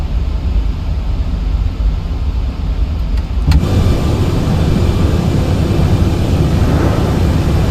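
Landing gear lowering on a PMDG 737-800 in a flight simulator, a steady loud cockpit rumble that deepens and thickens after a brief clunk partway through, continuing as a dense low roar with no talk.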